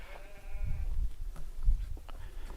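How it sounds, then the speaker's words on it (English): Sheep bleat outdoors at a castle ruin, a few wavering calls at moderate distance over a low, windy outdoor background. "Yes, we know there's sheep."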